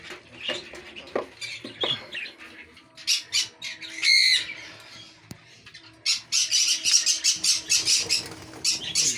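Birds squawk and chirp in a crowded aviary of breeding birds, including white pairs, with shrill calls coming in irregular bursts, a sharp squawk near the middle, and denser chattering toward the end.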